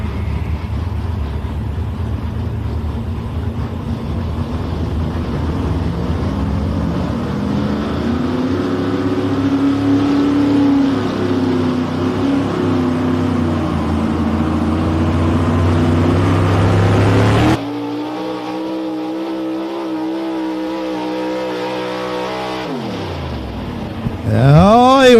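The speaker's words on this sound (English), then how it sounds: "That truck did not want to hook up and go for him at the beginning of the run." A pulling truck's engine roars loud and sustained as it strains against the chain in a truck-pull run at the Big Butler Fair in Prospect, Pennsylvania, climbing in pitch, then cutting off abruptly before a brief rising rev near the end.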